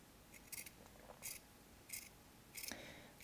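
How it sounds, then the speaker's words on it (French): Fabric scissors trimming the seam allowance close to a sewing seam, four or five crisp snips in short separated bursts, close and quiet with no talk. "au ciseau, on va recouper ce qui dépasse en s'approchant au maximum de la couture"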